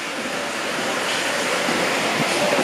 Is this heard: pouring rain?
yes